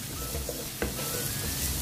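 Garlic sautéing in a pan with ginger nearby, a soft, steady sizzle and one sharp clatter of a stir midway, close and alone.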